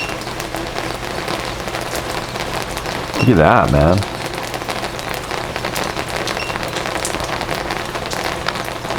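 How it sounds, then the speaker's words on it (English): Heavy rain pounds steadily on a hovering SwellPro SPRY waterproof drone, a dense continuous patter throughout, with someone briefly speaking over it. "Look how hard it's raining on it."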